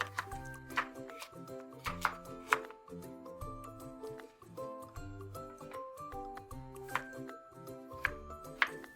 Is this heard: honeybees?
no